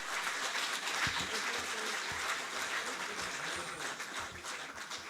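Loud applause rings out for the coaches of Asian Games 2022 medal winners at a felicitation ceremony, a continuous, slightly distant wash of clapping from a large crowd with faint voices mixed in.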